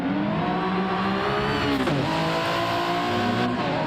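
A racing video game car at Le Mans braking into the Indianapolis right-hander: a loud, close, steady engine drone whose pitch dips and recovers briefly as it slows, with a faint hint of tire noise.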